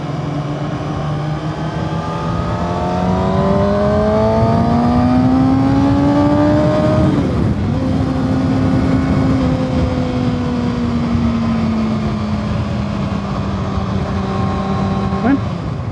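A 2022 Ninja ZX-6R sport motorcycle engine revving up with a rising whine while riding, dropping briefly at a gear shift, then holding a steady drone as it rides on.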